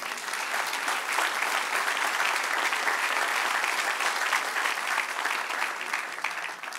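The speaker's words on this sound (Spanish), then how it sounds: "Dale un aplauso al Señor" A church congregation claps together in sustained, dense applause that holds steady and fairly loud throughout, easing only slightly near the end, with no speech over it.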